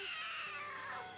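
A cat lets out one drawn-out, wavering meow, close and clear, sliding downward in pitch toward its end over about a second.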